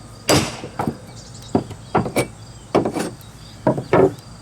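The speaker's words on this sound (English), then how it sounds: "just take a chisel and you're going to want to chisel out that last little chip out piece" A chisel chips out a piece of rotten wooden decking board in a series of sharp, close knocks and scrapes, about eight irregular strikes with short pauses between them.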